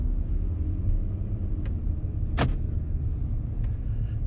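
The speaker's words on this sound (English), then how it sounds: "it's like a nice low rumble at when you're sitting like this, just sitting idling and at low RPM" A Ford 3.5 EcoBoost pickup truck with its exhaust resonator deleted creeps along at about 6 mph, a steady low exhaust rumble droning continuously, with one sharp brief crack midway and a few faint ticks.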